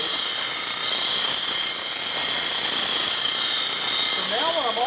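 A spindle gouge roughs wood on a lathe, with a loud, steady high-pitched whine and rushing hiss throughout, and a brief voice near the end.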